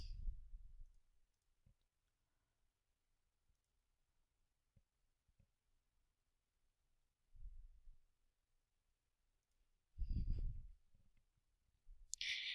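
A computer mouse gives a few quiet, scattered clicks in a near-silent room, with some louder low thumps and bumps in between.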